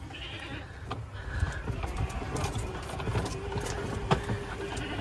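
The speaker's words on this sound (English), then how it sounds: "And there are the beautiful goats." Goats bleat on a farm where donkeys are also kept, with a golf cart engine rumbling steadily underneath and several short animal calls rising over the noisy outdoor background.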